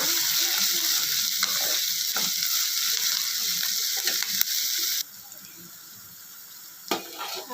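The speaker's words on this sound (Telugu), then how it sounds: "ఆనియన్స్ గ్రీన్ చిల్లీస్ ఇలా ఫ్రై చేసుకోవాలి" Onions and green chillies sizzle in a pan with a continuous close frying hiss, broken by occasional stirring scrapes and clicks. The sizzle drops away abruptly partway through, leaving quiet with a few scrapes.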